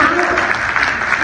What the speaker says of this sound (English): Let's give us a clap on that